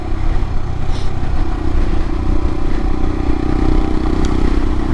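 A 2022 Royal Enfield Himalayan fitted with a Hitchcocks carburetor conversion rumbles steadily on a commute, loud continuous engine drone mixed with wind and road clatter, no voices.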